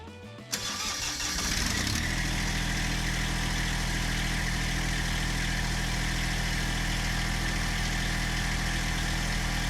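A Massey Ferguson GC1725M compact tractor engine cranks and catches, then settles into a steady, loud, close diesel-style idle hum that continues without any talk.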